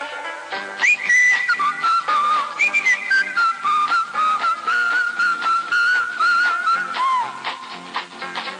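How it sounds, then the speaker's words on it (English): A bright melodic tune whistled clearly and steadily from a 1960s Camel cigarette commercial aired during a 1967 World Series baseball broadcast, sustained phrases with no voices over it. "Whistling my favorite song, gotta get moving right along."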